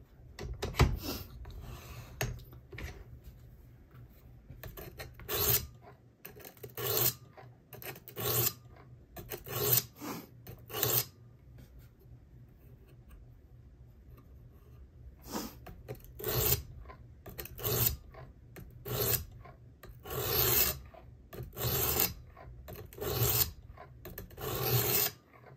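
A Worksharp Precision Adjust sharpener's abrasive is stroked repeatedly along a knife blade, giving close, rhythmic raspy scrapes in bursts, with a quiet pause in the middle before the strokes resume.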